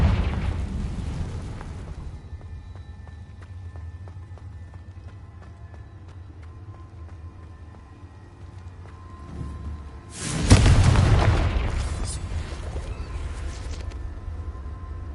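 In the Hogwarts Legacy video game, a Confringo blasting spell erupts in a loud burst about two thirds of the way through, following a rumbling opening and a quieter stretch of game ambience, then fades into a lingering roar.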